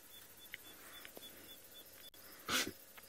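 A single short, sharp sneeze bursts out from an animal near a lion pride on an African safari, standing clearly above quiet outdoor ambience with faint bird calls.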